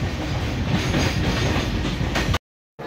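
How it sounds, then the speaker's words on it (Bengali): A train at Bardhaman station, bound for Howrah, makes a loud, continuous rumble and clatter close by that cuts out abruptly for a moment just before the end. "বর্ধমান থেকে হাওড়া যাচ্ছে এই ট্রেনটা"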